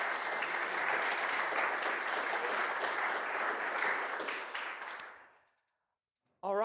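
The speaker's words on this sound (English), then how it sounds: "round of applause, please" Conference audience applauding after a tech talk at Vendure Conf 2024, a dense steady wash of clapping that fades out near the end, followed by a brief voice.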